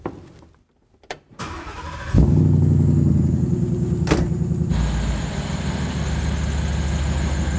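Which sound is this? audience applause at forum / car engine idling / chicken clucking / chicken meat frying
car engine idling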